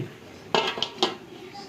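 A metal pot lid lifted over mussels cooking with chicken, giving three quick bright clanks and clinks close by against a quiet simmering background, with no one speaking.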